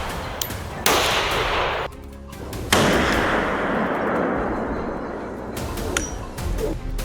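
Gunfire at a wild boar during a farm hunt: two sharp, loud shots in quick succession, each trailing into a long ringing decay, with faint metallic clinks afterward.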